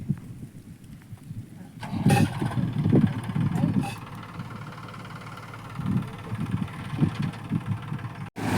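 A tractor engine idles and rumbles at a low, steady pitch on a farm, running continuously at moderate volume beneath people talking nearby.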